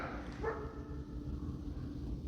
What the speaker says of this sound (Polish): Piesek szczeka.